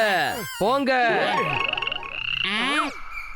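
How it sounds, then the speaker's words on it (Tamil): Cartoon frog croaking in a chase scene from a Tamil comedy cartoon, a run of bright, warbling croaks and chirps that rise and fall, loud and close with no talk over them. "பாத்தீங்களா, அந்த சின்ன தவளை கூட குதிச்சு எவ்வளவு வேகமா போகுது."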